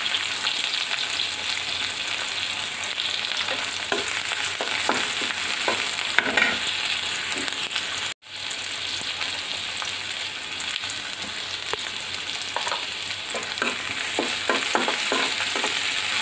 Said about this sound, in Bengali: সরিষার তেলের মধ্যে কয়েকটা আস্ত জিরা, তেজপাতা আর একটা শুকনো মরিচ দিয়ে দিছি। এখন এর মধ্যে দিব পেঁয়াজ।